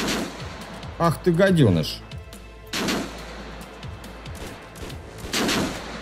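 Game gunfire in RimWorld, a colony simulation, with sharp broadband shots spaced a second or two apart and mixed in with someone speaking Russian.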